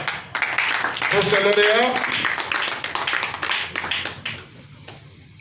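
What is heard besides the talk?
audience applause for a prize winner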